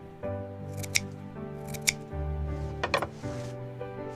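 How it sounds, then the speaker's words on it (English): Kitchen scissors cut herbs in a few quick, crisp snips, spaced about a second apart, close and clear over a sustained musical tone with no talk. "I cut the herbs with scissors."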